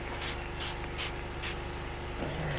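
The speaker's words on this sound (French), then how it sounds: "je prends mon spray d'eau. Je vais venir splitcher comme ceci." Short bursts from a water spray bottle misting onto an art journal page, four or five quick hissing puffs in a steady rhythm, close and fairly quiet, with no talking.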